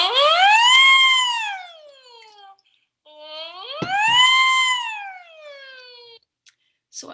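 A voice imitates a siren, sliding up and down in two long sweeping wails with a short pause between them.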